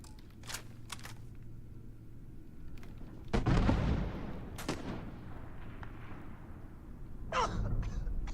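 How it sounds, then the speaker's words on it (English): Grenade explosions in Starfield ring out as a few scattered booms over a low rumble, the loudest burst near the middle and a smaller one near the end. "That was a grenade."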